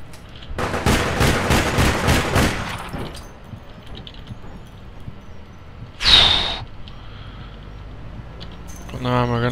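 Rapid bursts of automatic gunfire in the APB Reloaded shooter, a dense volley early on followed by a single sharp shot, with quieter gaps between.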